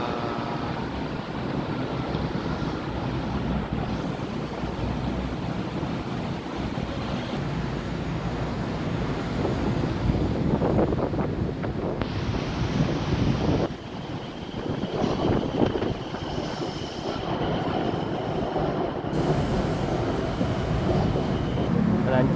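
A driverless Pink Line monorail train in Thailand approaches under a strong, steady wind roar buffeting the microphone. The rumble swells midway and stays loud.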